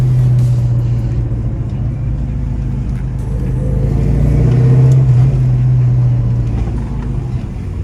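A 2004 Ford Mustang GT V8 engine idling steadily up close, a deep rumbling drone that swells slightly midway, loud and continuous with no talk.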